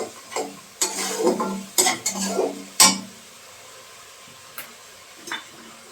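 Spatula scraping and clinking against a pan while cauliflower is stir-fried, several sharp irregular strokes with a faint sizzle underneath, close and fairly loud, then a few lighter taps.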